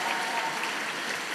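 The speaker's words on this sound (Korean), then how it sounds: "다시 한번 부산대형구역 합창단에게 큰 박수 부탁드리겠습니다." Audience at an evening summer church camp service applauding a choir: dense, even clapping that fills the whole moment at moderate level.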